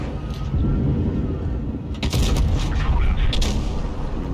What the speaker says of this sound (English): Another nice shot, damaging that ammo rack.